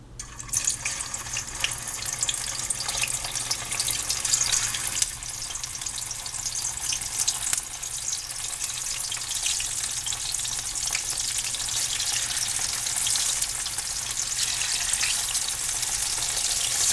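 Canned french fries frying in hot oil give a loud, steady, close sizzle with dense crackling that runs without a break, no voices present.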